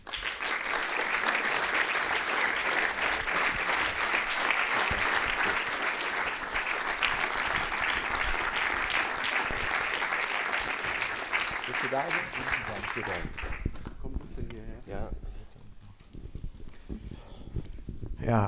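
Sustained, dense audience applause welcomes an actor and a director at the Austrian Film Museum's screening of Sohrab Shahid Saless's 1982 film Utopia. It stays loud and even, thins out near the end, and speech begins as it fades.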